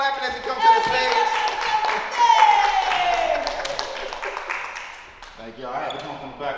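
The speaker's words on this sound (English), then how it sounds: "Keep clapping as he comes to the stage" Comedy club audience clapping and cheering as a comedian walks up to the stage, steady crowd applause with whoops and voices mixed in, tapering slightly near the end.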